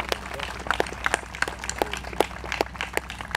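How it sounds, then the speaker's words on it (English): Outdoor audience at a park groundbreaking ceremony gives scattered, light applause, individual claps popping irregularly over a low background hum, fairly soft and thin rather than a full roar. "You've got to give them a rousing applause"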